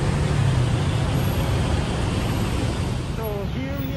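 Busy road traffic in Bangkok with buses and trucks, a steady rumble of engines and the squeal of brakes near the end, while someone talks over the noise.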